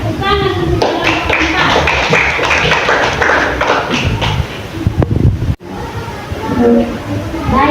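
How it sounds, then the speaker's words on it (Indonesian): Classroom applause for a student group that has just presented, a steady patter of many hands clapping under children's voices, briefly cutting out before talk resumes. "Silakan duduk tepuk tangan untuk kelompok"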